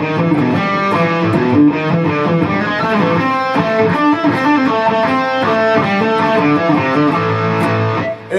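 Distorted electric guitar plays a riff, loud and continuous, with dense crunchy tone and quick, busy note runs from start to finish.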